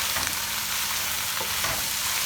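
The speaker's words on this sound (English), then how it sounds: "fry the spinach with the onion a little bit" Spinach and onion fry in a pan while being stirred, a dense continuous sizzle with soft stirring scrapes, close and steady throughout without voices.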